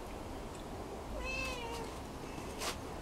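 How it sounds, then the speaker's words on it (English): A kitten meows indoors, one thin rising-and-falling mew at moderate distance over a steady background hiss, followed by a brief faint second call. "I've got baby cat here."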